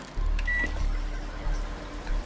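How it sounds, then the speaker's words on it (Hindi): A microwave oven hums steadily at home while heating frozen meat, a continuous low drone with a brief electronic beep tone early on and faint clicks. "गाइस माइक्रोवेव की नॉइस हो रही है,"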